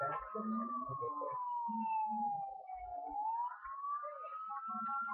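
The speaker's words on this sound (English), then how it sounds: "So I'm going to turn on my siren so I'll get back." Police car siren in the video game GTA 4 wails steadily, its pitch slowly sliding down and back up, with faint game noises underneath and no talking.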